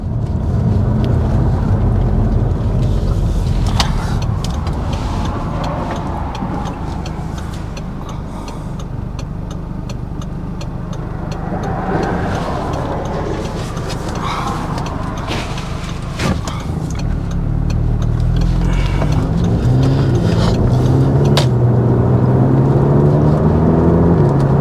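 Audi TTS Mk2 (8J) driving on the road, a steady low engine and road rumble heard from inside the cabin, with occasional faint ticks and a rising whir toward the end.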